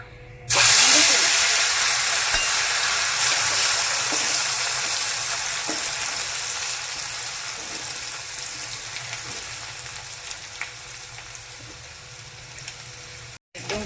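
Ginger and garlic hit hot oil for pav bhaji and burst into a loud, close sizzle that fades slowly into a steady frying hiss with small pops, before cutting off abruptly near the end.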